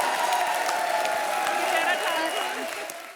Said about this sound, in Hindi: ठोका ताली भाई